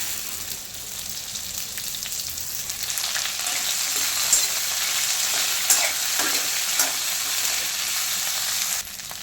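Okra frying in hot oil with mustard seeds and cumin for a Kathiyawadi Gujarati sabzi, a steady close sizzle with scattered pops and crackles throughout and no talking.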